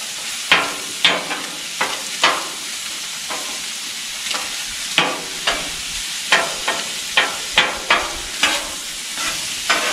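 Seasoned onions fry in a pan with a continuous sizzle, broken by repeated sharp crackles and stirring scrapes at an irregular rhythm, close and fairly loud.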